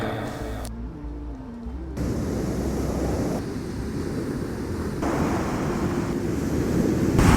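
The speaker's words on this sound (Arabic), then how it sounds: "شوف الله على صوت البحر" Rough sea waves crash and wash onto a beach in Barcelona at night, a loud continuous roaring surf with gusts of wind buffeting the microphone.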